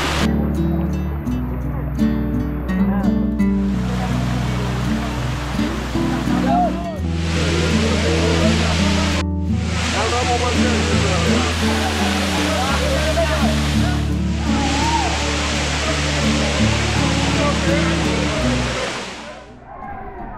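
Steady broad rushing of flowing water, like a wide waterfall, runs throughout, with music playing over it; water flowing evenly over the upper level of the Chhagalnaiya waterfall in Bangladesh.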